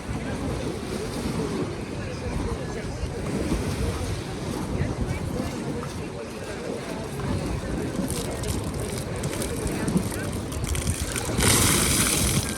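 Sea waves washing onto a beach in Odessa in summer, a continuous loud surf roar mixed with wind buffeting the microphone, faint beach voices in the background.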